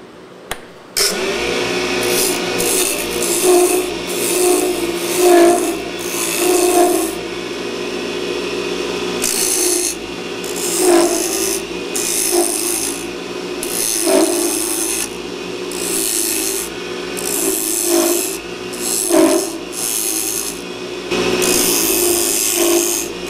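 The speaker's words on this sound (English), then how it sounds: "you bring in the chisel and you kind of hold it like this and just work it side to side" A chisel scrapes against a wooden top spinning on a lathe, producing loud, continuous rasping shavings in uneven strokes as it works side to side, with brief pauses and changes in bite as the cut progresses.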